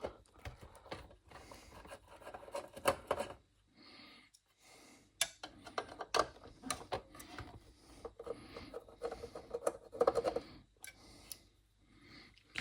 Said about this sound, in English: So if I can unscrew this.